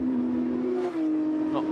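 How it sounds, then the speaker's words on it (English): Porsche Supercup race cars at Monza sweep through the Lesmo corners, a tight, high engine whine that holds steady and then shifts pitch as the cars flash past, with no voices. "Cars flashing through the first of the Lesmo corners."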